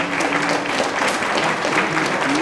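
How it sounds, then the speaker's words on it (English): An audience applauds breast cancer survivors with steady, dense clapping at a loud level throughout the brief moment. "we would like to give you all a round of applause"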